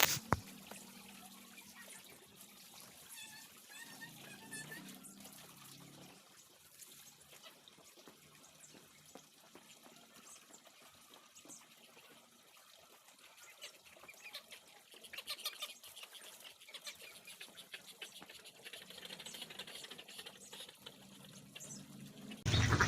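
Water is poured and filled into a container for ducks and chicks, a faint running trickle with occasional splashes and soft clucks and chirps from the birds around it.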